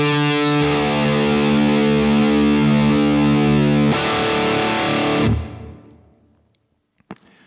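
A heavily distorted electric guitar tuned down to D plays a low, chugging blues-scale riff, loud and sustained, then cuts off abruptly into a ringing fade and near silence.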